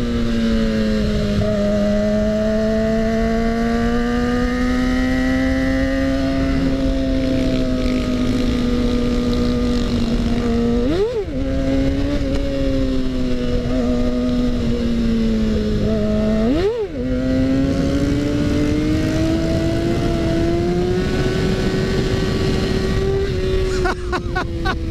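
A motorcycle engine drones steadily and loudly while being ridden, its pitch climbing gradually and dipping sharply twice as gears change, with wind rushing over the microphone throughout.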